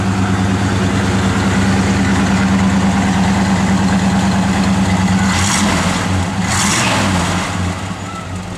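A 1956 Chevrolet 210 engine idles steadily close by, a loud low rumble with even pulses throughout and a brief burst of hiss near the end.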